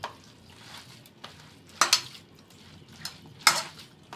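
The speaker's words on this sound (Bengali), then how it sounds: "লবণ দিয়ে আমগুলি ভালোভাবে মেখে নেব।" Grated raw mango being mixed with salt in a bowl, with soft, intermittent scraping and stirring and two sharper clinks of a utensil against the bowl, close and otherwise quiet.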